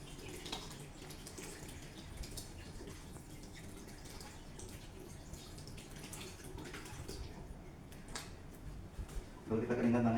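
A tap runs steadily during handwashing before a breast care procedure, a soft, continuous flow under a speaking voice with occasional light splashes, swelling louder near the end.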